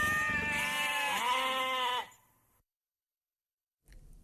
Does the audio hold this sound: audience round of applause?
no